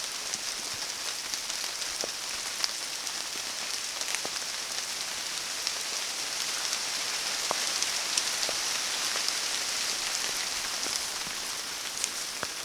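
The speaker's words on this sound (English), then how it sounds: "listen to the rain" Rain falls on a woodland walk near Kingscross at Whiting Bay, a steady close hiss of drops on leaves and ground with occasional sharper individual drips, no talking.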